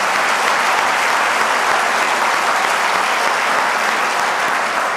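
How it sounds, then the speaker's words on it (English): Loud, dense audience applause at a bowling convention's annual meeting in honor of the youth committee, a continuous even wash of many hands clapping with no talk. "Let's give them a big round of applause."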